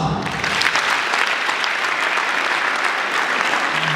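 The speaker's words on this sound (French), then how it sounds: "Mesdames, mesdemoiselles et messieurs, sous vos applaudissements," Audience at a student talent show applauds continuously, a thick even wash of many hands clapping at once, strong and sustained from start to finish.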